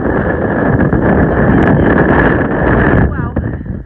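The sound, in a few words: strong wind on open trail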